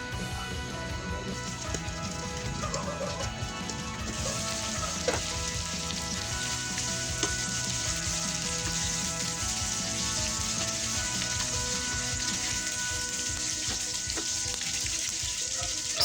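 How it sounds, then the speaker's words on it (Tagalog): Pork belly and eggplant cook covered in a pan, giving a steady, dense sizzle and crackle of frying that stays even and close throughout, with faint light pops. "Takpan lang natin ito at lutuin ng 3 to 5 minutes."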